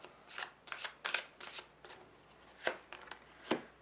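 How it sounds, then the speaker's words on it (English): A deck of tarot cards is shuffled close by, a quiet series of quick papery riffles and soft slaps in an uneven rhythm, with no talking. "let's shuffle these cards a bit"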